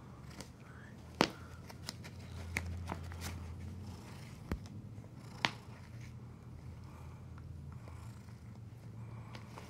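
A pet cat rubbing against a backpack, giving soft, quiet brushing and rustling with a few sharp fabric scrapes and clicks over low background noise; purring may be faintly present.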